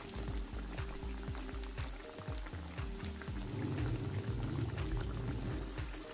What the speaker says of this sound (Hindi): अब हम इसे 2 मिनट तक मीडियम फ्लेम पर फ्राई करेंगे